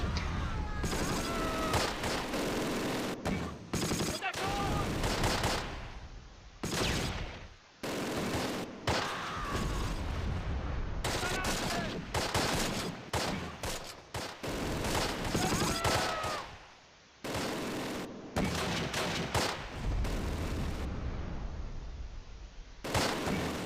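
Machine gun fire and heavy gunfire in the WWII tactical game Close Combat: Last Stand Arnhem, with dense repeated bursts and volleys of shots that come in waves, broken by short pauses, loud throughout.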